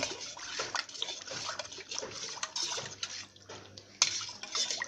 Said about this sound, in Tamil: இது எல்லாமே நல்லா மிக்ஸ் பண்ணிடுங்க இந்த புளிக்கரைசலோட